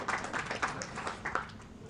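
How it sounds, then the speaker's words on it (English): A small audience at a spiritual talk claps faintly in a loose, scattered patter of hand claps that lasts under two seconds. "Give her a round of applause"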